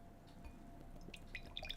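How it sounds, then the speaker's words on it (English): Thick high-gravity stout pours slowly into a glass, heard as faint, close liquid trickling with small drips and light glassy plinks toward the end. "And we'll get into the theatrics of a 5-minute pour."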